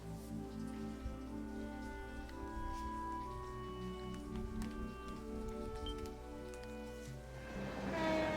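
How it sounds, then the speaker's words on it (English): A train passes in the video game Legend of Heroes: Trails to Zero, a soft, sustained rumble with drawn-out tonal hums under faint patter, swelling slightly toward the end, heard alone without speech. "Maybe the last train for the Republic region."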